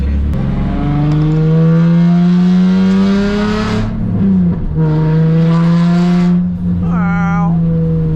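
A Nissan 350Z engine revs hard while attempting to drift, holding a loud, steady high-rpm drone, dipping briefly, then surging again before a short whine near the end.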